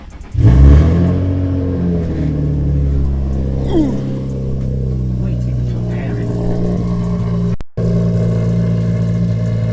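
A loud Infiniti G35 engine starts warm and revs, its deep rumble climbing in pitch, then holds a heavy idle with a brief dropout near the end.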